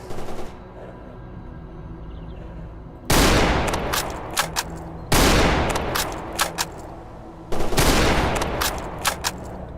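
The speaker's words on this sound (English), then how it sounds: "Who the fuck was that that had the nerve to shoot at me?" Gunfire in the game Stalker Anomaly arrives in three loud, sustained bursts of rapid shots, each cutting in abruptly over a quiet ambient hum and stopping with short gaps between.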